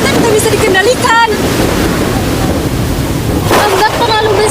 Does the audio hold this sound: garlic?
no